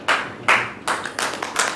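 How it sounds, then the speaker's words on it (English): At a fashion show rehearsal, a few people clap for a model in several short, uneven bursts, loud and close, with no talk over them. "Give a clap to her"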